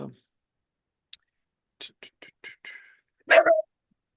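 A dog barks several times in short, separate bursts during a podcast recording, with scattered clicks and a louder final bark-like burst at the end.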